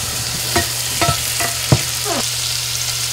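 Mussels hit hot sesame oil in a pan, giving a steady close sizzle with several stirring scrapes and clinks spread across the few seconds, and no talking.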